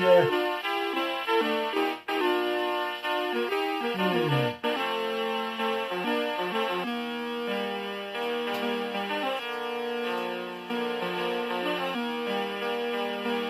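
Bright synthesizer melody from a retro Commodore video game, with clean, bell-like sustained tones and a few quick descending runs, playing steadily and alone.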